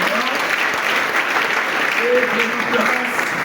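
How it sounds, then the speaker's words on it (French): A church congregation applauds and cheers continuously, a dense wash of clapping with voices shouting and calling out throughout, steady and fairly close. "Acclame très fort pour le roi."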